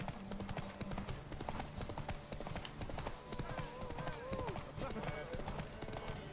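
Roach the horse galloping in The Witcher 3, a steady clip-clop of hooves running under the whole stretch, with voices talking over it.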